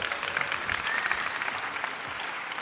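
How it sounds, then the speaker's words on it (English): A conference crowd gives a steady, dense round of applause, loud and sustained throughout with no gaps. "Give them a big round of applause,"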